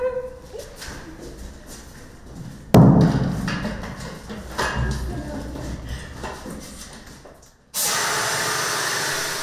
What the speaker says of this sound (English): From when Kristen first grabbed the extinguisher to the fire being out was 13 seconds